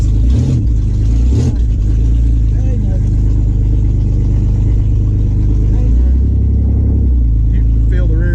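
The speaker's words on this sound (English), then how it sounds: "The car is obnoxiously freaking loud." A third-generation Camaro with a mini spool fitted revs loudly, its engine rising and falling in close, heavy roars as people talk over it.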